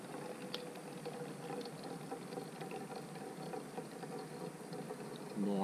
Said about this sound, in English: I really don't want to spill boiling water on myself